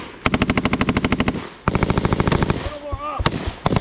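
Machine guns fire during a training exercise: loud, close, rapid bursts with a sharp even rhythm, a pause, then another long burst, with people shouting in between.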